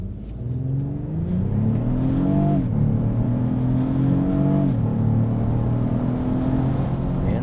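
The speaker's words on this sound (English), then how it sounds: "let's stop and do an acceleration" A 2024 Lexus GX 550 accelerates hard in sport mode. The engine pitch climbs steadily, drops abruptly at each gear shift and climbs again. The cabin drone is loud and continuous throughout.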